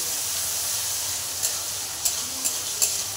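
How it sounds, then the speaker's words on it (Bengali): Ginger paste fries in a pan for a vegetarian dish. A steady hiss and sizzle runs throughout, with a few sharp clinks and scrapes as it is stirred. "আদাটা দিয়ে আবার ভালো করে কষাবো।"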